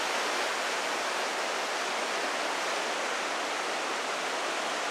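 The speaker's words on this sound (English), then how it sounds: "Now see the waterfall rushing by there." A waterfall in Johnston Canyon, Banff National Park, rushes as a steady, loud broadband roar of falling water, unbroken and close, with no voices.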